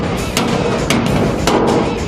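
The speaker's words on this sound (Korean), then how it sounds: "컨테이너 수리반의 망치질은 끊이질 않는다." Steady hammering on a steel shipping container under repair at Pyeongtaek port, with three sharp metallic strikes spaced about half a second apart over a constant loud industrial background.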